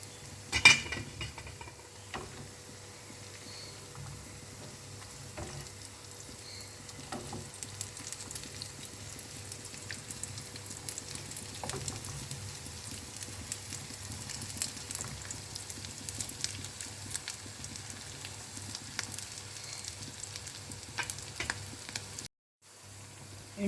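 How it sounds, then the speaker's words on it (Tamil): Sardine cutlets fry a few at a time in a small pan of oil, giving a soft, continuous sizzle with scattered light scrapes and taps of a utensil throughout. "நான் கொஞ்சம் கொஞ்சமாக தான் போட்டு பொரிச்சிட்டு இருக்கேன்"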